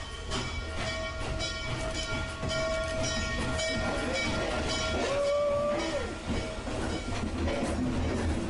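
Steam locomotive 611 moves along a passenger train at the Strasburg railroad, heard as a faint, steady rail rumble at a distance with a brief whistle-like tone partway through.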